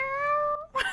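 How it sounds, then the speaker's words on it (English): A cat meows on the battlefield in Final Fantasy Tactics, a single clear drawn-out meow with a falling tone, followed by a brief clatter. "There's a cat on the battlefield."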